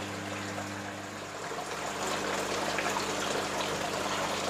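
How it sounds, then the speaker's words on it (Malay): Water falls steadily into a fish farming RAS tank, a dense constant splashing rush over the low hum of a pump, close and even throughout. "Kalau dengar bunyi itu adalah bunyi jatuhan air."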